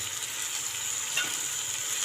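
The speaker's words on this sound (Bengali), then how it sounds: "ততক্ষণ এটা ভালো করে একটু ভাজি, তারপরে নুন দেবো।" Food frying in a pan for dinner makes a steady, close hiss and sizzle with faint crackles, unbroken and without talk.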